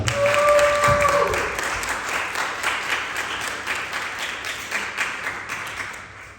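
Applause at a school literature day event welcomes an 11th-grade student reciter, a full crowd clapping steadily and then gradually thinning out, with a brief voice or tone near the start.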